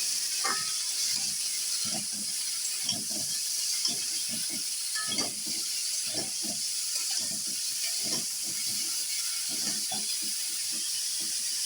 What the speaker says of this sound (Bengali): এখন আমি নুন আর হলুদটা দিয়ে ব্রোকলিটাকে একটু ভাজা ভাজা করে দেবো